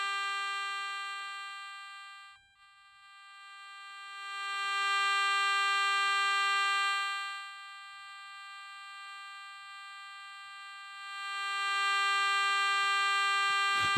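Response tone from a Garrett Recon Pro metal detector swept over a large target, a steady electronic tone that fades briefly, then swells back to full strength and holds, clear and close with no talking.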